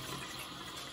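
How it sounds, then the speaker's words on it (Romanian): Tap water runs steadily into a small bowl in a home kitchen, a short continuous hiss of flowing water, close and alone. "Punem un pic de apă"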